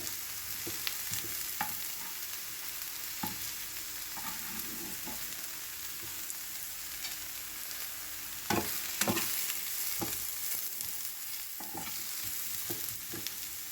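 Bitter gourd slices fry slowly in oil in a pan, a steady soft sizzle broken by scattered sharp crackles and spatula scrapes, alone without any voice.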